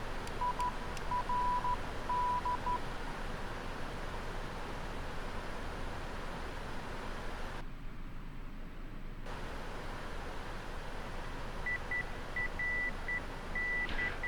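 A localizer identifier tone keyed in Morse code in the PMDG 777 flight simulator, with short beeping dot-dash bursts at the start and again near the end over a steady hiss of cockpit noise.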